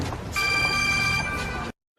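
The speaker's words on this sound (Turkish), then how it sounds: "Telefonunuz çalıyor." A telephone rings with one sustained electronic tone that holds steady for over a second, loud over a busy background, then cuts off abruptly into silence.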